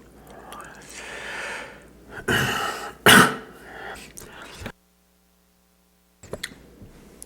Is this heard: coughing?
yes